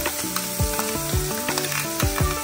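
A mixture of ginger, garlic, tomato and onion sizzles steadily in a hot pan, with repeated scraping stirs cutting through the close, crackling frying.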